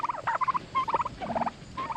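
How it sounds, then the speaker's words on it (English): Turkeys on a farm gobble in several rapid, warbling bursts, fairly close and clear, with short pauses between calls and no talking over them. "Turkeys."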